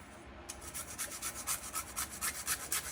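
Half a small nutmeg is grated for Jamaican peanut punch with Guinness, giving a steady rhythmic rasping scrape, a quick stroke roughly every quarter second, close and soft, with no talk.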